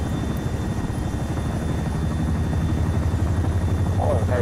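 A helicopter spools up in the Arma 3 military simulation game, a steady loud rotor and turbine drone with rhythmic chopping and a faint voice in the background.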